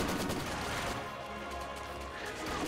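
Machine gun fire rattles in the strategy game Company of Heroes 2, dense rapid bursts mixed with other battle noise, strongest at the start and end with a lower rumbling lull between.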